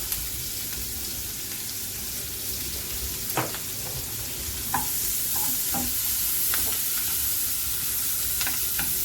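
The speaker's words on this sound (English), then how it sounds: "I'll saute them so you can extract all those nice flavors from it." Onions, garlic and ginger sauté in a pan for sweet and sour chicken, a faint, steady sizzle broken by occasional scrapes and stirs of a utensil.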